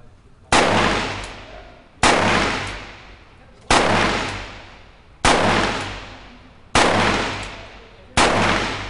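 A Colt Single Action Army .45 revolver fired six times at a slow, even pace about a second and a half apart, each loud, close shot followed by a long rolling echo that fades before the next.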